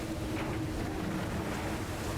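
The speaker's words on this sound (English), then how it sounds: "The waves are choppy." Choppy ocean waves in the Metal Gear Solid 2 tanker scene make a continuous rushing wash of water mixed with wind noise, steady and fairly loud with no speech over it.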